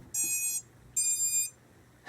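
An Eachine Wizard X220 drone beeps twice as its battery is plugged in, two shrill, half-second electronic tones separated by a short gap, close and clear over faint room noise.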